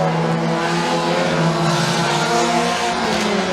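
Mini stock race cars roar around a raceway during a feature race, engines snarling loud and close with rising and falling pitch as the pack runs side by side.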